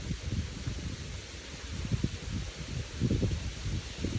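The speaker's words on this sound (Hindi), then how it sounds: "ये भी सोचो कि आपको सही हवा की आवाज़ आ रही है" Wind blows in soft, uneven gusts during a morning walk in Rishikesh near the river, with a faint rustling, leafy texture and low rumbles of wind against the microphone, no voices.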